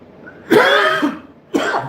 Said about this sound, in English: Goodness, I got the coughs